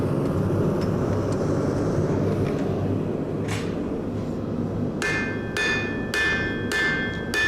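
A hammer striking metal to draw out and stretch a point at a forge, a series of about five sharp, ringing blows close by in the last few seconds, over a steady background roar.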